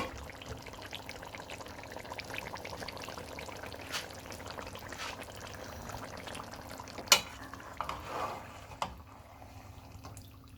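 Chicken tikka karahi is dished out from the pan into a serving dish, with soft scraping, sloshing and spoon clinks at a low, steady level and a few sharper knocks of the utensil toward the end.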